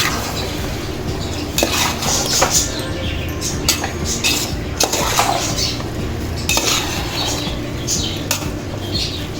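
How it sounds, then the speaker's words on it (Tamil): Vegetables for fried vegetable rice stirred in a pan, with repeated metallic scrapes and clinks of a spoon against the pan over a constant frying hiss. "போட்டுட்டு கிண்டி விட்டுக்குவோம்"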